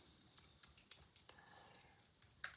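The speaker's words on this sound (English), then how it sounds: "What am I typing?" Quiet keystrokes on a computer keyboard, a steady run of light, irregular clicks with a few sharper taps, typed close by with no talking.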